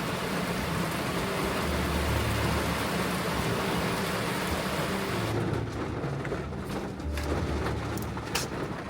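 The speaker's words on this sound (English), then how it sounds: "the rain is so loud" Heavy rain pours in a loud, steady roar with a rumble of thunder underneath, the downpour continuing close and dense throughout while the broadband hiss thins slightly toward the end.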